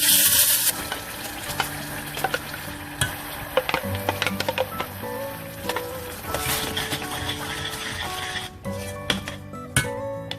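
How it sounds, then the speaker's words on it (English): Hot oil sizzling with cinnamon in a pan, with occasional stirring clinks and scrapes; a steady frying hiss with intermittent metallic knocks. "So now my oil is hot and the cinnamon is sizzling."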